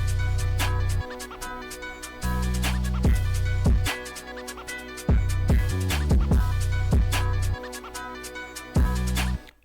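NY drill beat playing with a heavy sliding 808 bass pattern, dense hi-hats and percussion, steady loud groove with brief drops where the low end cuts out.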